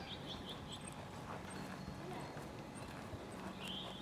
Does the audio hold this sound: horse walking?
yes